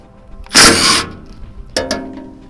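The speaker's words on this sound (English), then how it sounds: "So I've got my impact here, 9/16 socket, and I'm just going to run these off." Impact wrench with a 9/16 socket removing bolts from an ATV manure spreader, two short loud bursts of hammering whir, the first about half a second long and the second briefer, with quiet between.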